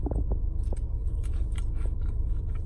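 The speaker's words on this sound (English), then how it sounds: "I'm eating right now" Close, steady chewing of toasted crunchy cheese with sour cream, small crunchy bites, soft and continuous over a low background hum.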